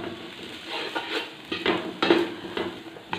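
Capsicum being sautéed in a pan for vegetable pulao, with fresh coriander leaves added, gives soft sizzling under repeated spoon scrapes and stirring clatter in short bursts, close by and fairly quiet.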